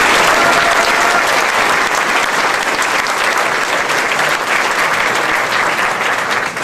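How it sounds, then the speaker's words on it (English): Loud, sustained audience applause at a hometown heroes ceremony in Colonial Heights, Virginia, a dense wall of clapping that continues evenly throughout. "I think he deserves a round of applause."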